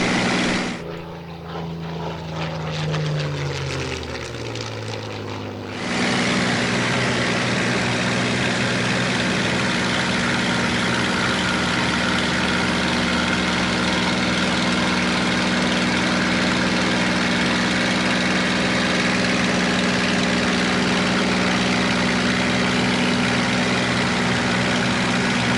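A Supermarine Spitfire's piston engine runs at an air display, a steady loud droning roar that holds for most of the stretch after a brief quieter start.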